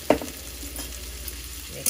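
A spoon stirring sliced portobello mushrooms and pepper frying in a pan for a coconut gnocchi dish, with a sharp scrape at the start and a steady sizzle underneath, close and moderately loud.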